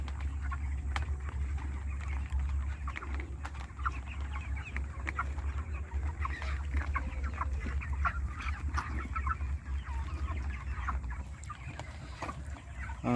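Chickens cluck and call steadily at a village poultry farm, a dense chorus of birds heard close over a low continuous rumble, with no talking.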